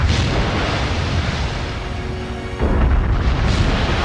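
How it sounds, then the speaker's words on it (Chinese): A warship in World of Warships is destroyed by torpedo bombers: a rumbling roar of explosions continues, then a fresh heavy boom bursts out near the end. "终于是被咱们的鱼雷轰炸机把它给击毁了"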